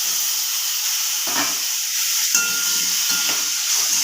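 Cubed potatoes and ridge gourd added to hot oil with cumin, a steady hissing sizzle with a few louder bursts of spattering as the vegetables hit the pan.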